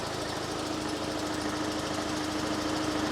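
A TWC Invacar engine idles steadily after being started, a faint, even, rattling putter that continues without change for a few seconds, with no voices.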